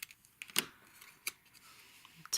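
Scissors snipping a small piece off a handmade birthday card, a few short crisp cuts and clicks spaced irregularly, close and quiet.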